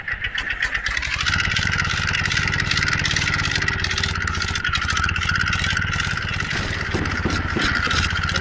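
A simulated old tractor hauling a loaded trolley up a hill in an Indian 3D driving game, giving a continuous loud, clattering mid-pitched engine chug that holds steady after a brief rise near the start.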